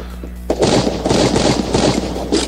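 Rapid bursts of gunfire from the shooter game Free Fire, loud and close, firing in quick repeated volleys almost continuously with no talk.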